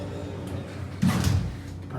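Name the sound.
elevator doors sliding shut in the Florida Mall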